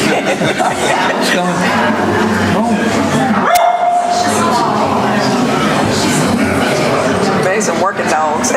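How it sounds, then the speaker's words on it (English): Working dogs bark and yip at a county commission meeting, short barks mixed into ongoing chatter and laughter from people nearby. "Some working dogs."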